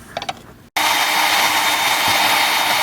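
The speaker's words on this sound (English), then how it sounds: "I got the bandsaw going. And it's not too terribly far from cutting all the way through." Bandsaw cutting through clamped metal during a three-point mower repair: a steady, loud, broadband grinding hiss that starts abruptly after a brief pause and runs continuously close by.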